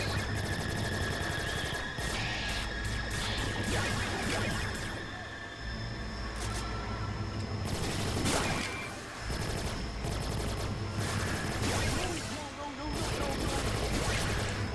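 Shotgun blasts in Watch Dogs ring out repeatedly amid dense, chaotic combat noise, loud bursts spaced irregularly across the stretch with whooshes and crashes in between.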